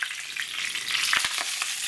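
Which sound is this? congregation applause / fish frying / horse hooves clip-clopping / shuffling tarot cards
fish frying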